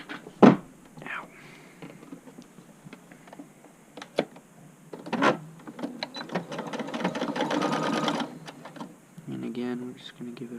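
Sewing machine stitching an upcycled button-up shirt, in short intermittent bursts with a longer continuous run, mixed with handling thumps and soft talk.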